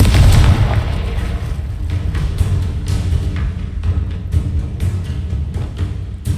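An explosive Confringo spell blast in the Hogwarts Legacy video game, a loud booming burst followed by rumbling debris and a string of sharp pops and crackles.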